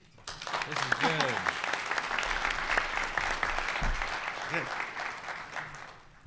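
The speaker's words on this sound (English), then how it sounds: "Now you can applaud." Debate audience breaks into hearty applause that swells quickly and holds steady, dense clapping filling the room while a speaker's voice briefly carries over the top near the start.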